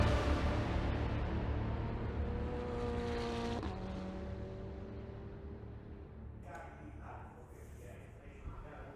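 Ferrari 488 Challenge race car engines at Imola during a Ferrari Challenge Europe race, a steady loud mechanical roar with rising harmonic tones that shift as a car passes, under continuous commentary.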